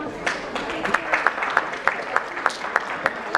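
Light applause at a corporate IT summit presentation, a thin smattering of distinct hand claps in a loose, roughly regular beat over faint background chatter.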